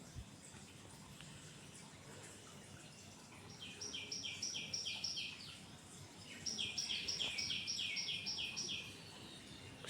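Birds call in the early morning around Bolpur, two bouts of quick, evenly repeated chirps rising out of a low, steady background hush, moderately distant and soft.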